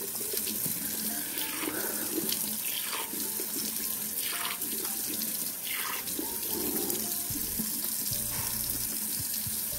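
Cold tap water runs steadily into a sink while someone splashes and rinses their face by hand, a close, continuous gushing with soft splashes throughout and no talking.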